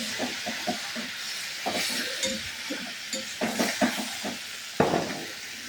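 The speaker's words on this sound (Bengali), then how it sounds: "মশলাগুলোর সঙ্গেই সব আলু কাঁকড়া সব কষাবো" Crab and potatoes stirred through spices in a pan for kosha kankra, with repeated spoon scrapes and soft sizzling over a steady frying hiss, one sharper knock near the end.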